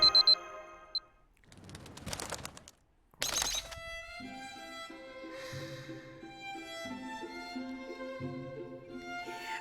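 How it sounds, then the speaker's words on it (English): An alarm clock rings in the video game Fate/Grand Order. A short, bright electronic chime comes first, then noisy bursts, and a cheerful melodic game tune carries on to the end. "Why isn't the alarm stopping?"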